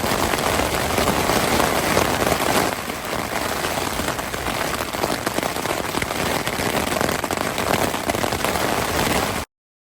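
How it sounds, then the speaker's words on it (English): Heavy lashing rain pounds a backpacking tent in Montana's Bob Marshall Wilderness, a dense, loud, continuous hiss of drops with no talking. "And rain. Do you hear that? Lashing rain."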